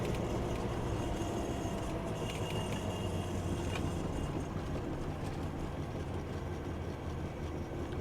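Steady low growl and road drone inside a moving 200 HP Mk2 Golf GTI project car, rumbling from a worn right front wheel bearing, continuous and even throughout.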